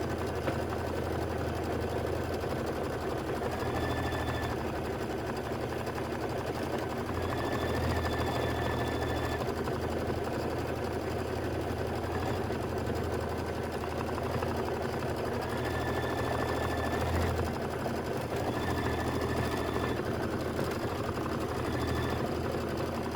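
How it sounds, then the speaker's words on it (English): An embroidery sewing machine stitching a jar placement line on appliqué fabric for an autumn scented candles quilt block, a steady fast mechanical whir with rapid needle chatter running continuously, close and unbroken, with no talking. "So we're going to stitch the jar placement line."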